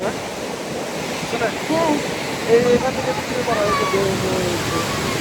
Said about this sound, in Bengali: এই ঢেউ আবার উপরে উঠে আসবে না তো?